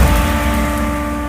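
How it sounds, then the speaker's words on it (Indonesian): In a children's story, an explosion sound effect lands as a loud low boom that rumbles on and slowly fades, alone with no talk over it. "Akhirnya, Max meledak seketika."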